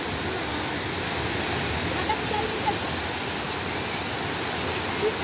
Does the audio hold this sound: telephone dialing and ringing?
no